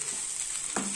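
Kanda poha with green coriander being gently tossed in a kadhai, a soft short sizzle with one quick scrape of the spoon near the end.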